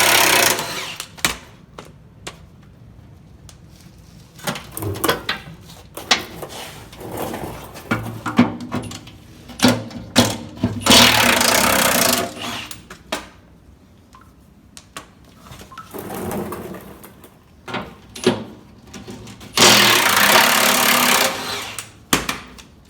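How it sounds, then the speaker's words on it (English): A Milwaukee 1/2-inch cordless impact gun removes bolts while replacing a snowplow cutting edge, firing in several short hammering bursts separated by pauses and clanks of handling. "We're going to go with the 1/2 inch impact gun and a fresh battery."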